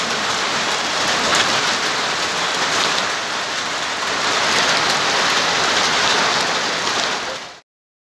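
Steady, heavy afternoon rain from a thunderstorm hisses across a hard surface for several seconds, dense and continuous, then cuts off abruptly.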